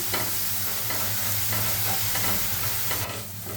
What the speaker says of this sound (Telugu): ఇప్పుడు మనం పుదీనా పేస్ట్ని యాడ్ చేసుకోవాలి. పచ్చివాసన పోయేంత వరకు ఫ్రై చేసుకోవాలి.